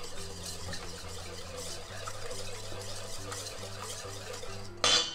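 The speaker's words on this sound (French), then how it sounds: "Je vais mélanger tout de suite." A whisk or utensil stirring eggs, sugar and vanilla in a bowl, a quiet steady scraping with light clinks, low appliance hum underneath and a brief sharper clatter at the end.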